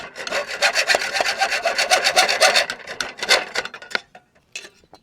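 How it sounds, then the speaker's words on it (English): A hacksaw cuts through wood held against a 2x4 guide, making rapid, rhythmic rasping strokes close up, steady back-and-forth for about four seconds before slowing to a few last scrapes. "All I have to do now is cut it with the hacksaw."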